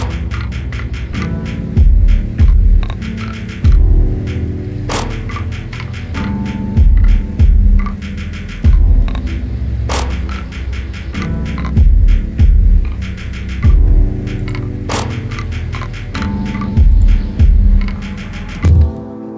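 Guitar beat melody slowed to half speed by a Gross Beat preset in FL Studio, a loud, continuous, dragging melodic loop over low throbbing bass with heavy drum hits landing in a steady repeating pattern, no voices.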